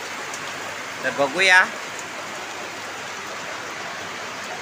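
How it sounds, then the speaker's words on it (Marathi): Heavy rain pours in a steady, even hiss of dense drops close around, while a voice speaks briefly over the downpour. "भयंकर पाऊस पडतोय, एकदम खतरनाक पाऊस पडतोय"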